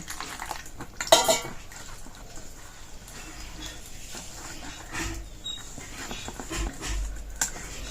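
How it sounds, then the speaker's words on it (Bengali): A utensil scrapes and clinks against a bowl as jute leaf fritter batter is mixed with water. The irregular stirring knocks and taps sound close and fairly quiet, with one sharper clatter early on. "অল্প অল্প জল দিয়ে ব্যাটারটা বানিয়ে নেব। আর একটু জল দিব।"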